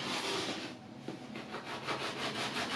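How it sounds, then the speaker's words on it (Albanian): A knife saws through bread for avocado-and-boiled-egg bruschetta, a steady rasping scrape with repeated back-and-forth strokes, close and fairly loud with no talk. "Si fillim, do fillojmë duke prerë brusketën tonë."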